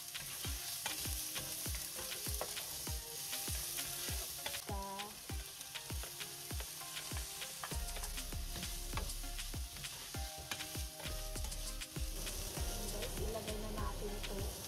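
Garlic and onion fry in hot oil in a pan, a continuous crackling sizzle with dense sharp pops and occasional stirring scrapes, close and steady throughout.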